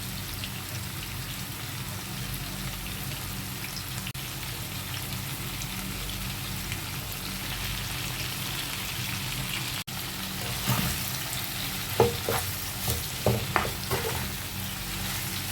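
Bitter gourd (ampalaya) hitting hot oil in a pan, a steady low sizzle throughout with sharper crackles and spatters bursting in near the end, close and fairly quiet, no voices.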